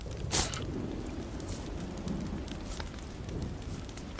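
Rain falls in The Walking Dead video game, a steady, soft, hissing patter with a few brief brighter splashes and no speech.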